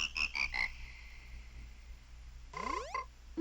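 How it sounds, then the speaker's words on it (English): Frog croaks from the chorus in The Legend of Zelda: Majora's Mask 3D, four quick rhythmic croaks, a quiet pause, then a rising chirpy game sound and one more croak, no talk. "They remind me of the frogs from Banjo-Kazooie."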